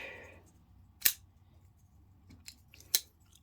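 A QSP Leopard folding knife snaps open one-handed, giving a sharp metallic click, then a couple of lighter clicks follow in a quiet room.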